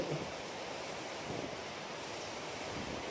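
Water pours steadily into a fishing bait dough mix, a continuous close hiss and splash with no pauses.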